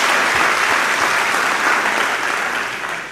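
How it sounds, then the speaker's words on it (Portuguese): Congregation applauding during a church service, a dense, steady wash of many hands clapping that stays loud and close, then eases slightly toward the end. "Uma salva de palmas a Jesus."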